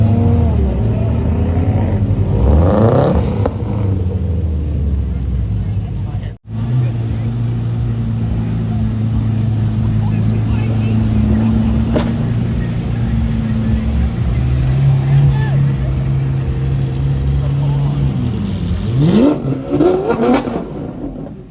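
Cars pull away hard from a car meet, engines loud and close. They rev with rising pitch sweeps, then one holds a long sustained drone before another revs up at the end.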